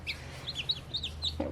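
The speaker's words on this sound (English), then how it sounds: "So we have two more baby chicks." Newly hatched baby chicks chirp in short, high peeps, several close calls spread over a second and a half, with a low background hum.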